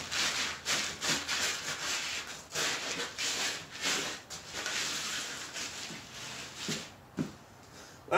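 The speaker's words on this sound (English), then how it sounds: "Everywhere you see oil, you scrub, you twist," Scrubbing oil off an aluminum cylinder head, a steady run of rough brushing strokes with a rhythmic back-and-forth rub, close and moderately loud with no talking.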